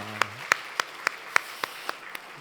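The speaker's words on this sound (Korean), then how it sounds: "여러분 축복의 박수 한번 해주시길 바랍니다" Church congregation clapping in blessing for a newborn son, heard as about nine sharp, evenly spaced claps at a brisk steady beat, with a brief voice at the very start.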